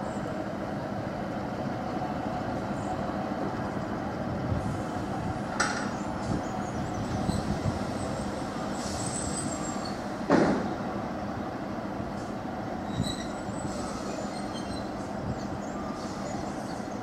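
A Class 153 diesel passenger train idles at a station with a steady low engine rumble, a couple of sharp clanks standing out over the constant drone.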